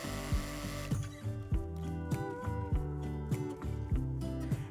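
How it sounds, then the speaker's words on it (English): A sewing machine runs a tight zigzag stitch along the edges of a canvas bag, giving a steady, rhythmic mechanical clatter that is fairly quiet and close, with no talking. "I will go along both sides and do a tight zigzag stitch just to close that up and keep it from fraying"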